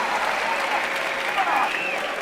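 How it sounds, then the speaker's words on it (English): A crowd at an Olympic tennis match cheers and applauds in a steady, dense roar that holds loud from start to finish, with commentary voices underneath. "The crowd are on their feet."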